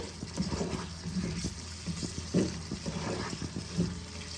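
Masala for an egg and potato curry frying in oil in a pan while being stirred, giving a soft wet sizzle with irregular scraping and clinking strokes of the spoon, close and moderately quiet.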